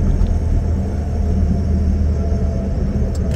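A 1997 Nissan March drives fast along a main road, heard from inside as a loud, steady low engine rumble with road noise and no talking.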